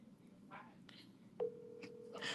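A phone dials out to place a call, giving short beeps and a sustained tone, quiet and close, with faint whispering around it.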